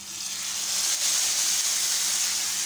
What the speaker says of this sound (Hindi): तड़का मार के फ़ौरन बंद कर दें